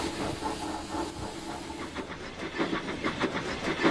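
Steam locomotive Thomas puffing away, steady rhythmic chuffs with hissing steam that grow slightly louder as he moves off.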